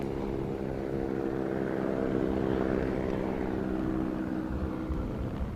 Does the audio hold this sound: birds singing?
no